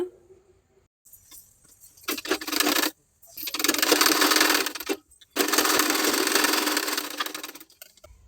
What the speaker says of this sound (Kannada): ಈಗ ಈ ಲೈನಿಂಗ್ನ ನೀಟಾಗಿ ತಿರ್ಸ್ಕೊಂಡು ಮೇಲೆ ಒಂದು ಸ್ಟಿಚ್ನ ಮಾಡ್ಕೊಳ್ಳೋಣ